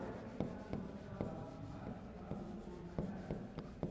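Chalk or marker scratching and tapping on a board while an example is written, faint repeated strokes at an uneven pace with soft rubbing between them.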